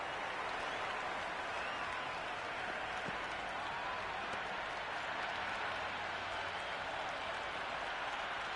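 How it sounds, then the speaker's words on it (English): Steady crowd applause and cheering fill a cricket ground in the Cricket 26 video game during an Under-19 ODI final at Harare Stadium, a continuous loud roar of clapping with no breaks. "the crowd have joined the party. It's pretty noisy at the ground."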